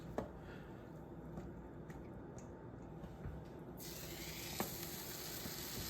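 Broadband sizzle of French toast mix frying in butter in a pan, a steady hiss that grows brighter and louder partway through, with a few small clicks.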